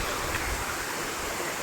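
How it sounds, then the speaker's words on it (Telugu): Water pouring steadily at Konda Lingalavalasa waterfalls, a constant broadband rush with no breaks, fairly close and loud throughout. "వాటర్ చూడండి ఎంత చక్కగా వస్తుందో"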